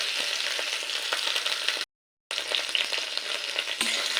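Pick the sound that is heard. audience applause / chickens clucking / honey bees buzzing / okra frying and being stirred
okra frying and being stirred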